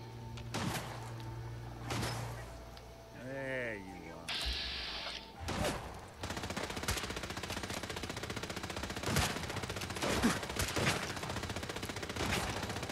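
Bursts of rapid gunfire from the video game Fallout 4, with repeated sharp shots and loud volleys later in the clip over a busy game background, with a voice talking early on.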